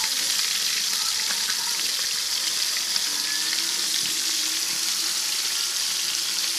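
Fresh tilapia frying in a pan gives a steady, loud sizzle with crackling oil that runs without a break, and no voices can be heard over it.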